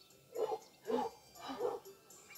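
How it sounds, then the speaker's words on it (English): A dog out in a residential neighborhood gives three short barks or yelps spaced about half a second apart, moderately near, over a quiet outdoor background. "Oh, dog."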